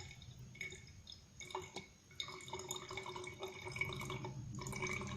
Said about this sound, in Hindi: ये धीरे धीरे हमें इसमें बोतल में, ये आपको मुझे लग रहा दिख नहीं रहा होगा, मैं इधर से डालती हूँ।